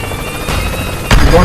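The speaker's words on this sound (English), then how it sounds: "Don't tell me you're gonna land the chopper in the water as well." A helicopter in the video game Worms WMD whirs loudly and steadily up close, with a sharper burst of noise near the end.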